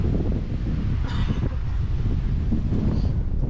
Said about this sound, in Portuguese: Tá ventando pouco aqui